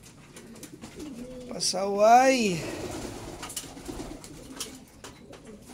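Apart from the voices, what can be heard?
racing pigeons cooing in a loft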